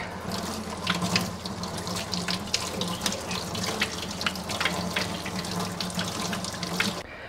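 Small pickling cucumbers are rinsed under a running kitchen tap, a steady close gush of water into the sink with irregular splashes and patters as the vegetables are handled.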